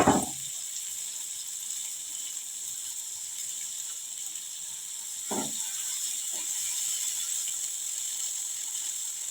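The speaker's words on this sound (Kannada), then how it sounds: "ಈಗ ನೀರು ಬೀಳಾಕತ್ತಿ" Water pours into a cooking pot of boiled mung beans on low heat as a continuous, even rush, with a couple of brief knocks at the start and middle. No voices are heard.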